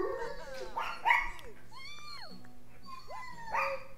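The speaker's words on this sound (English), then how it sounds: "Dog, really?" A dog in The Sims 3 video game barks and whimpers with rising and falling yips, several short calls close and clear over a low steady background.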